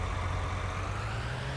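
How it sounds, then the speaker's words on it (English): A tractor engine in Farming Simulator 19 runs with a steady, low mechanical rumble and a constant hum, loud and unbroken with no talk over it. "Fire up the engine."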